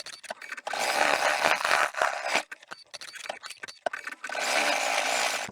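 Embroidery machine stitching the veins on sewn ivy leaves, a fast buzzing rattle of the needle running in dense bursts with brief pauses, fairly close and moderately loud.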